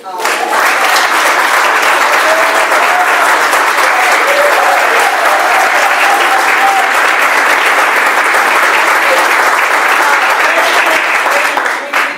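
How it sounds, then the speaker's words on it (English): A community forum audience applauds steadily and loudly for about twelve seconds, a dense wash of many hands clapping that holds its level throughout with no one speaking over it. "Now is the time you guys can clap"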